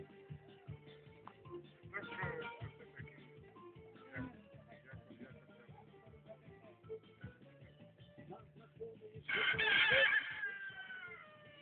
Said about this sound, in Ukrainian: Ах, півник вас голосистий.